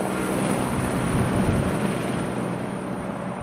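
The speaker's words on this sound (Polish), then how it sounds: "Na dachu naszej szkoły wylądował właśnie helikopter" A helicopter landing on a school roof makes a steady, loud, broadband rotor and engine roar that holds constant throughout with no voices.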